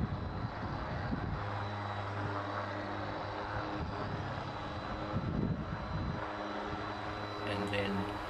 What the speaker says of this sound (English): I use a 180 grade sandpaper on a random orbital sander, and I work in a figure 8 motion down the hull.